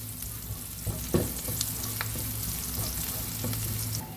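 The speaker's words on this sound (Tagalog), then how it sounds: "Lagyan tayo ng mantika. At ilalagay na natin ang ating bawang." Garlic sizzles in hot cooking oil in a pan while squid adobo is being made, a steady close frying hiss broken by a few clinks of stirring.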